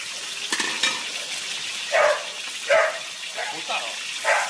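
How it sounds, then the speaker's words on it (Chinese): Fatty pork hits hot oil in a big iron wok, giving soft sizzling and stirring with several louder spitting bursts spaced across the clip, while a voice talks over the cooking. "油热以后下入肥肉"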